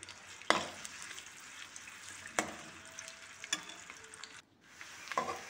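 Chopped onion frying in oil until golden, a faint steady sizzle broken by a few sharp clinks and scrapes of stirring, close by and quiet with no talk.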